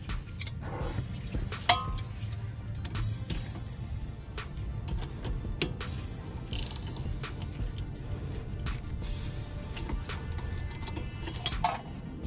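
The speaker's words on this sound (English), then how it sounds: "Now I'm going to use my socket and ratchet to take it off the rest of the way." A socket and ratchet back out a brake caliper bolt on a 2011-2018 Dodge Charger SE AWD, with irregular clicks, ticks and clanks of the ratchet at close range over a low background hum.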